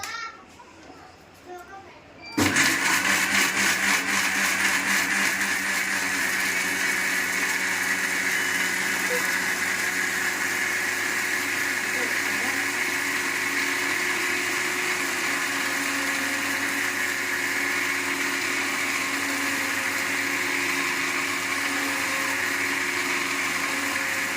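A mixer grinder churns crab masala with a little water for Telangana-style crab curry; after a brief quiet moment with voices, the motor starts and whirs loudly and continuously at a steady pitch.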